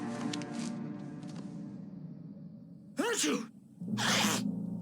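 A sneeze from the video game Alan Wake bursts out once, then a second breathy burst follows, both close and loud over a steady low game ambience and musical drone with spoken dialogue.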